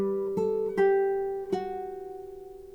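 A classical guitar plays a short phrase from Roncalli's Gavotte, four plucked notes picked cleanly and close up, with the last note left ringing and slowly fading, no voices.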